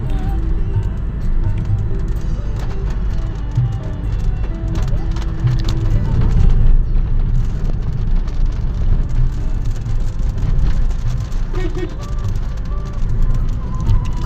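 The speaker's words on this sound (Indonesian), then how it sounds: "Iki hudane wis mulai rintik-rintik." Steady patter of light rain with a low rumble of passing traffic underneath, continuous throughout.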